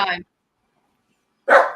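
A dog barks twice indoors, two short loud yaps separated by more than a second of silence.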